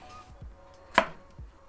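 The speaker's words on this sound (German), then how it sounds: "Und jetzt schneiden wir uns das hier in so Scheiben." A knife cuts through an apple on a cutting board, giving a few close, crisp chops, one sharp slice in the middle and soft knocks before and after it.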